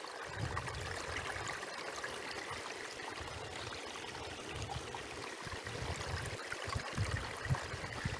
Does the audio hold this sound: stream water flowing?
yes